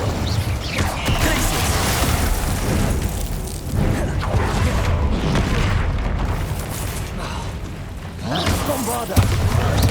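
Rapid explosive booms from the Bombarda blast spell, set amid a spell-casting battle in Hogwarts Legacy, loud and dense with rumbling thuds and mechanical clatter, while a voice calls out over the fray.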